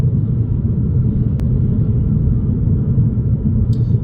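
A VW Scirocco R-Line with a 2-litre TSI engine cruises along, its low steady rumble filling the cabin from start to finish with no voices.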